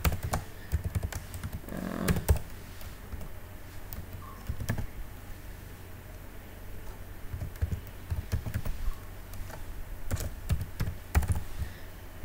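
Rapid clattering keystrokes as code is typed on a computer keyboard, irregular bursts of close, crisp taps with short pauses between them.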